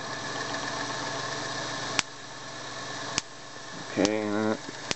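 A steady motor-driven hum from the spinning rotor of a Voss high voltage generator, with sharp isolated arc snaps cracking every second or so and a voice briefly talking over it near the end.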